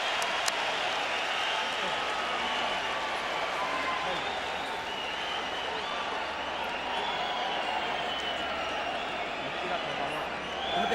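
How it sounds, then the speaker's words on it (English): A boxing arena crowd at the Marco Antonio Barrera vs Juan Manuel Marquez fight roars in a steady wash of cheering and applause, with a voice talking over it throughout. "And the crowd rises to appreciate the intensity of this war."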